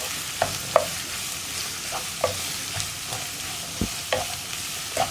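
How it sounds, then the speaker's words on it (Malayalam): Sliced onions with salt sauté in a pan for a green peas curry, with a steady sizzle and repeated scraping strokes of a spoon at an uneven rhythm, close and clear with no voices. "ഇനി നന്നായിട്ടൊന്ന് വഴറ്റിയെടുക്കുക"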